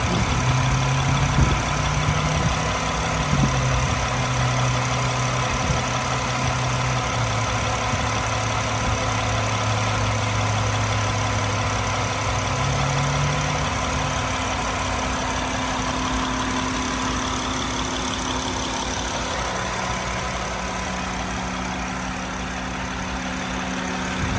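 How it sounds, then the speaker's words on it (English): The 3.0-litre V6 of a 2008 Honda Accord EX-L with 65,000 miles idles steadily and smoothly at close range, a low, even hum with no voices over it. "Take a listen to the engine here for a moment."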